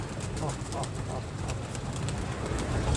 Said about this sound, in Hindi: जैसा कि आप देख रहे हैं कबूतर ऐसा नीचे आना शुरू हो गए हैं